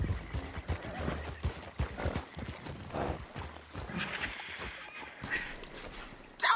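Horse hooves pounding at speed during a race in Red Dead Redemption 2, a busy rhythmic clatter with a snort or whinny, mixed with other game noise throughout.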